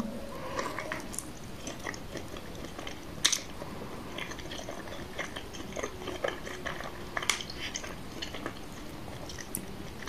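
Close mukbang biting and chewing of a Chebudog, a sausage-filled snack, with repeated crunchy bites and wet chewing spread irregularly through the stretch, no talking.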